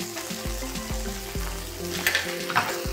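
Bacon fries in a pan with a steady, close sizzle and crackle, broken by several sharp knocks or scrapes of a utensil against the pan, with no one speaking.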